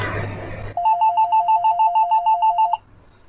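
A mobile phone ringtone in a Turkish short film, loud and close, a rapid repeating electronic warble that starts abruptly and cuts off after about two seconds, with no talk over it.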